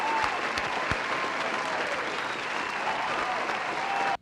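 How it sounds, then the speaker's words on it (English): Collective applause during a live music stream, a steady wash of clapping lasting about four seconds before cutting off abruptly. "everyone, give a collective applause to Hannah for winning that one"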